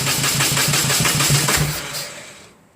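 A 1998 BMW R1100RT motorcycle engine cranks and catches, with rapid rhythmic pulses for about two seconds before the sound tapers off, loud and close.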